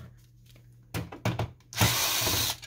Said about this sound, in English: Remove this screw